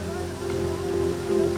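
Heavy rain falls on the city streets of Gurugram, a continuous hiss of rainfall mixed with a steady low hum, with a voice speaking over it.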